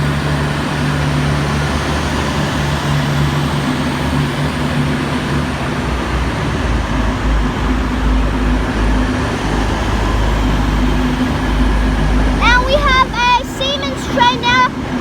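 V/Line VLocity diesel trains at Caulfield station in Melbourne make a steady low rumble and drone along the platform, and a short run of squeals or chirps near the end rises above the hum.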